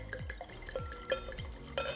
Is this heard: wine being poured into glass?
yes